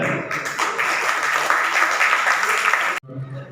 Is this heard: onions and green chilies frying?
no